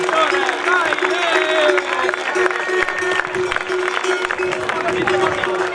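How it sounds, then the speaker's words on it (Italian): Applause and cheering from a crowd at a skyrace awards ceremony in Villacidro, steady clapping under a loud amplified voice and a sustained musical tone, with cheers mixed in. "Un applauso per Tore Cuveddu"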